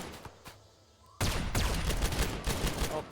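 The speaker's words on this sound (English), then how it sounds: "Oh, he took a lasgun shot." Lasgun fire in the video game Rimworld, a sudden burst of rapid overlapping shots that starts after a quiet moment and keeps crackling densely to the end, loud and close.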